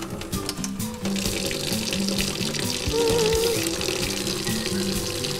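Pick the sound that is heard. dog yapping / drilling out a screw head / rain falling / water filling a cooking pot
water filling a cooking pot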